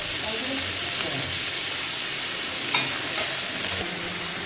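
Small fish sizzle steadily in hot oil with salt, turmeric and black cumin, a constant close hiss broken by a few sharper crackles and pops near the end.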